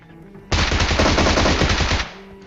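A Bizon submachine gun in PUBG Mobile fires one sustained, loud burst of about a second and a half. The rapid shots blend into a dense, steady roar, with no talk over it.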